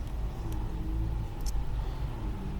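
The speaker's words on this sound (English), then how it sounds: "There's a truck stopping traffic." A truck idling in stopped road traffic, a steady low engine rumble filling the scene with brief higher clicks, no voices.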